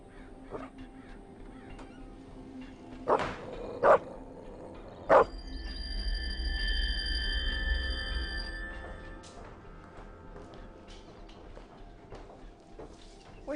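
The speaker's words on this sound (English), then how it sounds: "makes the family dog start barking" A few sharp dog barks ring out near the start, followed by a low rumble and a sustained electronic tone; no one speaks.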